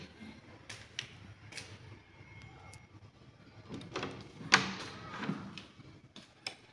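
A door to a TV lounge in a home is opened, giving scattered knocks, clicks and a brief creak over quiet room tone, with a sharper clatter near the end.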